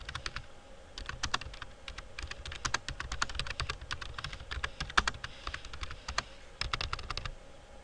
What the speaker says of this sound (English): We can add our conclusion using the computer keyboard.